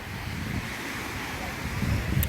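Sea waves wash onto the shore beside a seaside tree, a steady broad surf rush mixed with gusty wind noise on the microphone, with no speech.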